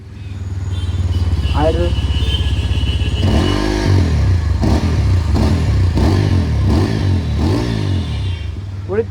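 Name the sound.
TVS Apache 200 4V motorcycle exhaust note revving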